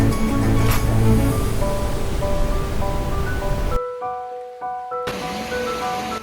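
A monsoon waterfall in the Dang forest pours down as a steady, dense rushing roar. The roar fills the scene and dips abruptly for about a second midway.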